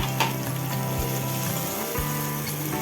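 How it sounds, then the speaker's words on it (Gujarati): Onions sautéing in a pan until golden brown, a continuous close sizzle with a low rhythmic scraping of a spoon stirring through them, no talk. "આપણી ડુંગળી જ્યાં સુધી ગોલ્ડન બ્રાઉન ના થાય ત્યાં સુધી આપણે તેને શેકી લેવાની"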